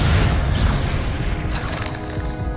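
A Descendo spell from the Hogwarts Legacy video game slams down with a loud, heavy boom, then a rolling rumble that lingers and slowly fades.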